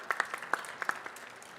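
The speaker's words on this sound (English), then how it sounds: "let's please give them a round of applause." Scattered, fairly faint applause from a small convention audience: a handful of sharp individual claps that thin out over about a second and a half.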